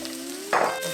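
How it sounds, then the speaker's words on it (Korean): Garlic and onion hitting melted butter in a pan, a brief sharp sizzle bursting up partway through after a quiet hum, close and short. "버터를 두르시고 마늘하고 양파 먼저 볶아주시고"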